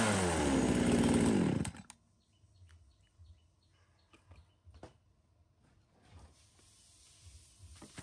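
Used Japanese chainsaw with an assisted-pull starter, loud two-stroke engine revving hard for under two seconds before cutting off abruptly, leaving quiet outdoor ambience with faint birdsong and small knocks and clicks.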